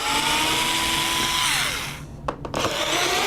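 Screws are backed out of an appliance control panel with a power driver, a steady motor whine that winds down, followed by a couple of brief sharp clicks and rattles.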